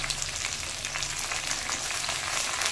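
Chopped pointed gourd and long beans sizzle and fry in a pan for a vegetarian mixed-vegetable dish, with a steady, close hiss throughout and no talking.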